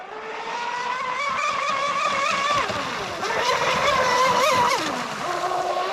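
A Proboat Mystic 29 RC boat with an upgraded brushless motor makes a high-speed pass over water, its whining motor rising and falling in pitch with a Doppler-like sweep, loud and steady, with no talk.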